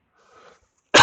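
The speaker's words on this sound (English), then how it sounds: "the coughing thing I apologize for" After a near-silent stretch with a faint breath, a single loud, close cough bursts out at the very end.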